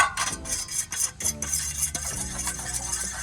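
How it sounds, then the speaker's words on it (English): A whisk clatters rapidly against a bowl, beating two eggs for an egg wash, in a steady, quick metallic rhythm, close by, with no voices. "Whisk them up and I'll get back to you in a minute."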